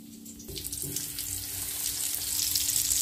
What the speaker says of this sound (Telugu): ఇలా వేడి చేసుకున్న ఆయిల్లో వేసుకొని ఒక ట్వంటీ మినిట్స్ మీడియం ఫ్లేమ్లో చక్కగా ఫ్రై అయ్యే వరకు ఫ్రై చేసుకోవాలి